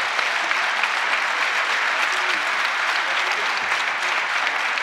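An audience applauds steadily and loudly at a prize-giving ceremony. The dense clapping holds at an even level from start to finish, with no pause or swell.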